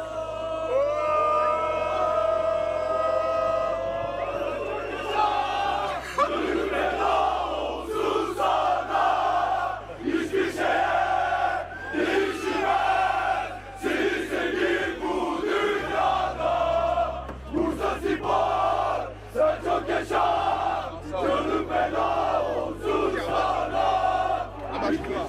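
Sports fans with lit flares chant loudly in unison, a massed crowd roaring rhythmic, repeated calls that rise and fall through the whole stretch, close and dense with whoops cutting through.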